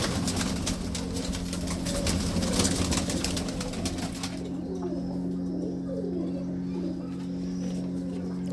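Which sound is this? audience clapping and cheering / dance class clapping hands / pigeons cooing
pigeons cooing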